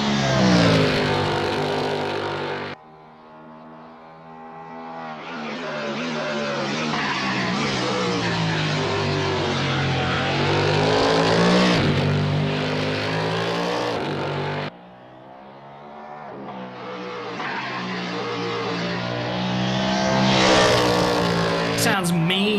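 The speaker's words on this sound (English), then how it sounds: "Sounds mean on the downshifts." A race car engine roars hard at VIR in a racing game, climbing through the revs with abrupt drops and snarling downshifts, loud and continuous, with talk over it.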